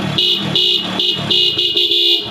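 Loud, close blasts from a relay-wired dual horn fitted to a Hero Splendor motorcycle, sounded in quick repeated honks of uneven length, with a slightly longer blast near the end.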